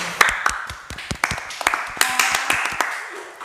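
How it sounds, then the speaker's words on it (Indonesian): Hand clapping during an Indonesian talk-show chat, a run of separate sharp claps with uneven spacing, close and fairly loud, with a short stretch of denser overlapping claps near the middle. "Niat yang baik, tepuk tangan"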